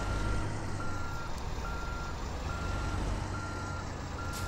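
Reversing beeps from a Kenworth truck backing up a trailer in American Truck Simulator, a steady repeating tone held over a constant low engine rumble, loud and close with no talking.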